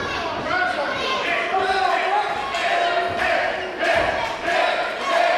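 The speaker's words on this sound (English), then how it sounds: "Listen to this crowd going wild for Nick Robles" A wrestling crowd at a 5Star Wrestling Summer Bash event cheers and chants wildly in surging waves, loud roars rising and falling over a few seconds, with a commentator talking over the noise.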